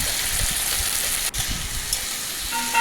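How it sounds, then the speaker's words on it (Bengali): Potatoes and long beans frying in white oil in a wok give a steady, close sizzle with soft crackling throughout, and no talking. "কড়াইতে সাদা তেল দিয়ে প্রথমেই আমি আলু আর বরবটিটা ভাজার জন্য দিয়ে দিলাম"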